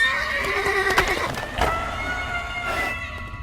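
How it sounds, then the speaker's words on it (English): A spooked horse whinnies loudly and shakily over a low rumble of movement, with a second shorter neigh toward the end, in a dramatized radio scene. "You're spooking my horse."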